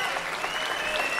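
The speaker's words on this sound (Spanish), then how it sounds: "Aplauso por encima, cabro" A short burst of steady clapping from a crowd at a freestyle rap battle, moderately loud and continuous, with a voice talking faintly over it.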